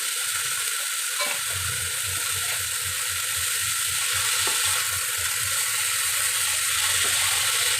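Chopped green chilies fry in oil for dhenki shak, a loud continuous sizzle close up with occasional scraping clicks of stirring in the pan.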